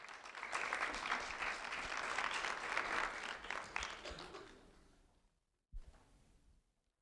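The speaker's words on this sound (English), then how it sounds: "a round of applause for Skylin James" Warm applause from a gathered crowd honoring a third-grade student at a sheriff's office recognition event, a few seconds of steady clapping that fades out, followed by a brief isolated thump.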